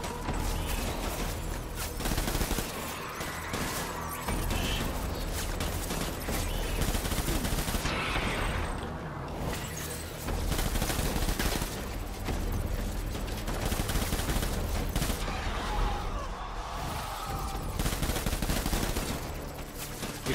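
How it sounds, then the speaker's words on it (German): Gunfire in the video game Death Stranding aimed at sandbags: dense, rapid bursts of shots over about twenty seconds, with short pauses and some mechanical clatter, loud and continuous with no talk. "Ich schieße dann auch mal gegen diese scheiß Sandsäcke"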